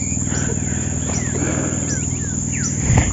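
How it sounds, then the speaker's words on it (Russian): Various birds chirp and call in the Amazon rainforest, with repeated short whistles and tweets over a steady hum of insects, moderately close and continuous throughout. "Птички разные."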